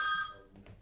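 A telephone rings once, a bright electronic trill that cuts off quickly and fades into faint background noise, heard briefly and fairly quietly.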